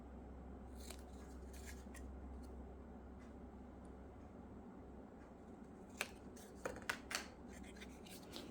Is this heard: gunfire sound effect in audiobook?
no